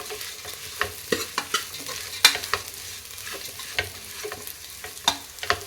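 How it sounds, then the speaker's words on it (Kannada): Sprouted horse gram frying in a hot tempering, with a steady close sizzle and a run of sharp, irregular scraping taps from a stirring spoon against the pan, no talk. "ಇದೊಂದು 2 ನಿಮಿಷ ಚೆನ್ನಾಗಿ ಫ್ರೈ ಆಗಲಿ ನೋಡಿ."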